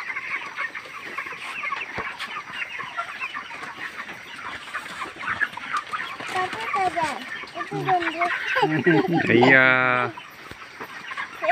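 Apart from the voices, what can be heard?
chickens clucking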